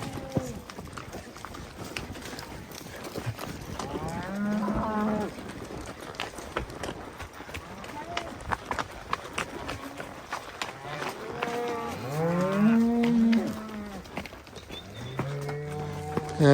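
Cattle on a fenced range low repeatedly, with several drawn-out rising and falling moos close by over a continuous outdoor background.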